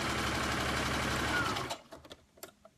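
Sewing machine stitching a skirt hem, a steady close whirr that stops abruptly, followed by a few light clicks and handling sounds.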